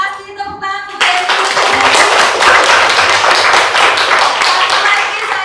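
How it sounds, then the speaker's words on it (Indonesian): A brief spoken phrase gives way to loud, close clapping from a small group of students in a classroom, brisk and even, continuing for several seconds. "terima kasih tepuk tangan untuk Devi."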